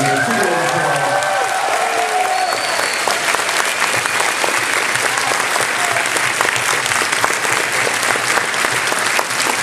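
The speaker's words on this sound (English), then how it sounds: "Let's give them a big round of applause." Audience applause for the Power Rangers Super Ninja Steel and Beast Morpher cast at a reveal panel, steady dense clapping from a large crowd filling the whole stretch, with faint cheers and a brief whistle early on.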